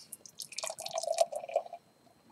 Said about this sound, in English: Pouring the glass now.